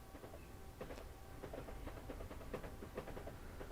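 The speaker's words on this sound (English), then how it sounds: "Love the sound of the train passing." A Class 377 electric train passes in the Train Sim World game, giving a faint rhythmic clickety-clack of wheels over rail joints with a low rumble beneath, heard through an open window.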